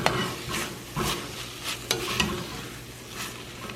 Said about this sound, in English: I'm gonna mix this in with the onions and cook it until it's browned